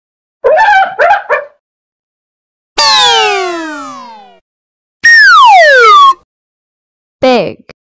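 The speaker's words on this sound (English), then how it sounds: "Hyena." Hyena calls in a series of four loud, close bursts: quick chattering yelps, then a long whoop that slides downward, another falling whoop, and a brief final cry, with silent gaps between them.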